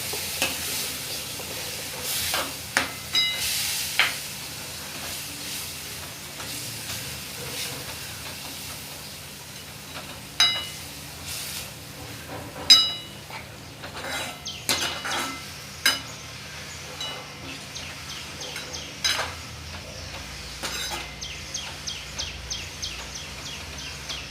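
Spinach sautéed and stirred in a pan for a Marathi-style palak garagata, giving a low steady sizzle with repeated scraping clicks of the spoon and a rapid ticking run of stirring strokes near the end, close and without talk.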